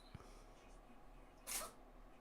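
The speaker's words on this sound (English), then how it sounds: "my cat just sneezed." A pet cat sneezes once, a short sharp burst near the middle of the clip, fairly close and over quiet room background.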